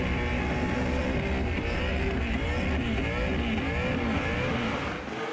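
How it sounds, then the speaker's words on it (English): A burnout car roars at Summernats with a pumping throttle, its engine note loud and continuous with rapid rising and falling surges, dense and close throughout with no pause. "He's gone from the full consistent RPM to now that pumping throttle sound, which tells us the tires are off"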